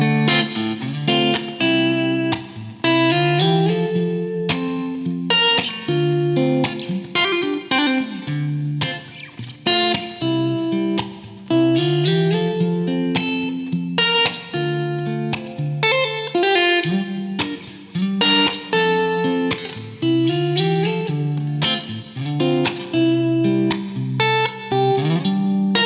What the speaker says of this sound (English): Now let's hear that same pickup but on coil split mode.